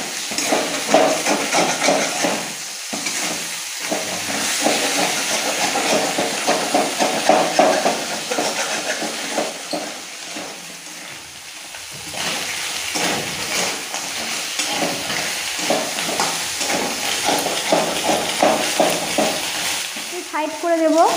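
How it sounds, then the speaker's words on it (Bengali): Rohu fish head frying in hot oil gives a loud, close, continuous sizzle with swelling bursts of spattering and occasional knocks and scrapes against the pan. No voices are heard. "ভালো করে মাছের মাথাটাকে ভেজে নেব।"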